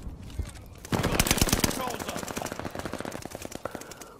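A burst gun in Call of Duty Vanguard fires rapid, loud volleys of closely spaced shots that carry on in a continuous rattling stream, with a voice talking over the gunfire.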